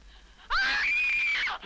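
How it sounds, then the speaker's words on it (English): A single long, shrill scream from a 1970 horror film, a woman's piercing cry bursting in suddenly and holding for about a second before cutting off, loud and alone against a quiet background. "Were these the screams you heard?"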